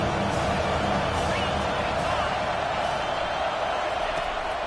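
Stadium crowd noise from a Madden football video game, a steady, loud, continuous roar of cheering spectators filling the whole stretch without breaks.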